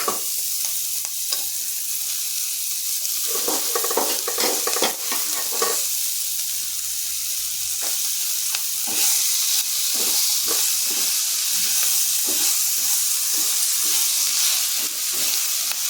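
Jaggery melting over low gas in a pan of fried green chilies for a sweet-sour chili pickle, with a steady soft sizzle and repeated scraping stirs that quicken in the second half, close and continuous with no talk.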